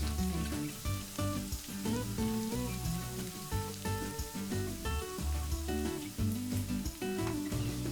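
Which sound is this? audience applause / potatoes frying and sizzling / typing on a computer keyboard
potatoes frying and sizzling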